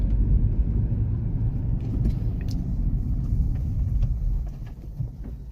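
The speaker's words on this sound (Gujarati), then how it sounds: "હવે તમને બ્રેકિંગનું ફીડબેક પણ દેખાડી દઉં." A 2016 Hyundai Creta 1.6 E+ petrol SUV brakes hard with ABS engaged, a loud low road rumble from inside the cabin that holds steady and then eases toward the end, with faint clicks above it.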